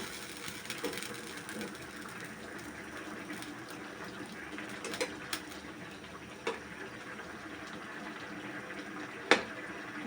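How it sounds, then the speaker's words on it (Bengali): Pumpkin curry boils in a pot with a soft, continuous bubbling simmer, nearby and fairly quiet, marked by a few faint clicks. "আমার তরকারিটা উতলাই গেছে"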